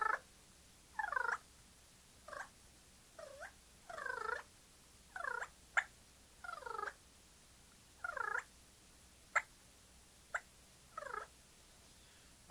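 A mouth diaphragm turkey call imitates soft rolling purrs mixed with sharp single clucks, spaced irregularly over several seconds, close and clear with quiet gaps.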